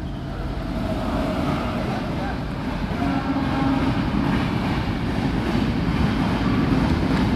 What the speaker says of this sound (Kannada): ಯಾವುದೋ ಒಂದು ಟ್ರೈನ್ ಪಾಸ್ ಆಗತೈತಿ.